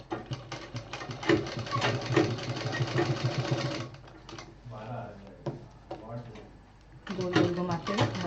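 Sewing machine stitching a fabric hanging pouch in rapid mechanical bursts, pausing around the middle and resuming near the end, with a person talking over it.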